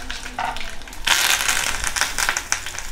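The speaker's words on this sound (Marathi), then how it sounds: "तेल आपलं गरम झालंय, त्यामध्ये आपण घालूया आता थोडीशी मोहरी, त्याचबरोबर थोडेसे जिरे," Mustard seeds, cumin and curry leaves hit hot oil for a tadka, giving a close, sharp crackling sizzle that jumps up suddenly and keeps popping steadily.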